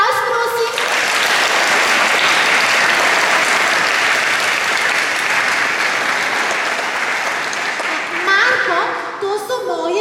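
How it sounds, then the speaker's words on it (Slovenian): Audience applause at a children's choir concert by the Lučke choir in Kapele pri Brežicah, greeting pianist Marko Stajnko; dense sustained clapping from a large crowd fills the hall, with brief speech at the start and end. "En aplavz, prosim."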